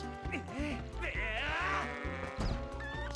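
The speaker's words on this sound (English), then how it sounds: "A goat got loose! It's heading for town!" Goat bleating in the video game The Legend of Zelda: Twilight Princess HD, a run of wavering, nasal bleats close up, mixed over game music and sound effects.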